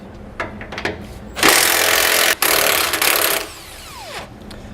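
An 18mm socket on a ratchet or impact tool works bracket bolts loose on the front frame of a 2017 Jayco Redhawk motorhome, with a loud sustained whirring burst for about two seconds between a few sharp clicks and knocks.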